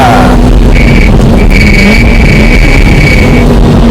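A Honda Accord Euro R with its K20A engine accelerates hard up a mountain pass road, the loud close engine note climbing steadily in pitch with a brief dip at a gear change, no talk over it.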